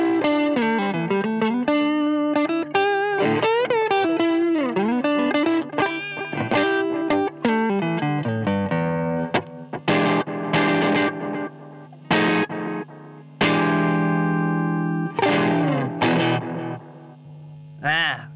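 Electric guitar run through a Sqoe overdrive effect pedal with delay plays a distorted, sustained melodic phrase followed by chopped chord stabs, loud and continuous with echoing tails and no talk.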